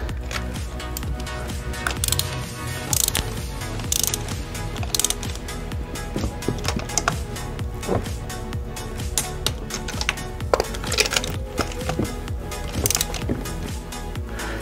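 A ratchet torques the valve cover bolts to 22 foot-pounds on an Audi 3.0T supercharged V6 in a C7/B8 S4/SQ5, giving dense, steady mechanical clicking throughout, close and fairly loud, with no talking.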